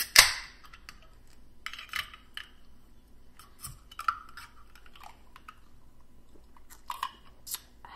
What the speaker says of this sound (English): I like eating my little mushrooms con marinara sauce